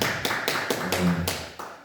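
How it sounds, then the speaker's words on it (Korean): Steady, rhythmic clapping from a congregation at a Korean Christian revival service in a prayer house, evenly spaced beats carrying over room echo with a faint voice beneath. "박수 한번 주시죠"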